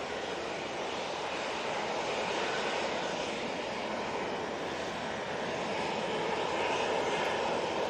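Engines of an Airbus A321neo jet at Manchester Airport make a continuous rushing roar that swells slightly toward the end, heard at moderate distance with no voices.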